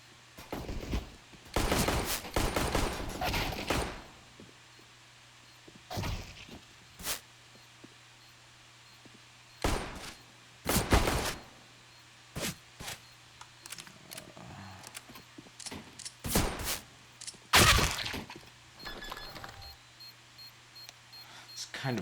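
Counter-Strike gunfire on the Cache map, with loud close rifle bursts of rapid shots and several single cracks spread across the stretch, separated by quiet gaps.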